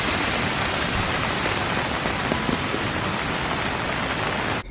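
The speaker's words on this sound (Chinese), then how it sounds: "好大的雨啊" Heavy rain pours steadily in the high mountains at about 2670 m, a dense, unbroken hiss close by that stays loud throughout and cuts off abruptly at the end, with no voices.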